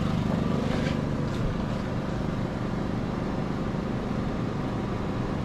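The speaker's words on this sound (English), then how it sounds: "Let's up that generator to 15 amps outside. Super quiet generator." A Predator 5000 or Cummins 4500 portable generator runs under load outdoors, holding a steady, even engine hum at moderate level with no voices over it.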